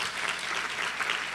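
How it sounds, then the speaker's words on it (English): Brief, full round of applause from an audience at a recognition ceremony for top high school seniors, dense and steady throughout with no talking. "So let's give them another round of applause."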